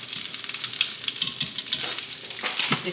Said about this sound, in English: So we're gonna go ahead and add our shrimp to this